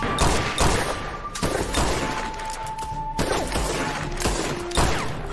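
Sharp gunshots from a Wild West shootout, a ragged volley of loud cracks and thuds ringing out one after another with ricochet-like whines between them.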